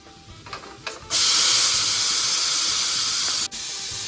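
A pressure cooker of chicken khichdi is opened, releasing a sudden loud, continuous steam hiss after a quiet second. It holds steady for a couple of seconds, cuts out briefly, then carries on.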